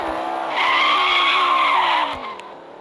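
Sustained tire squeal from a skidding car in an extreme car driving video game, a loud screeching whine over engine drone that swells, holds for over a second, then eases off.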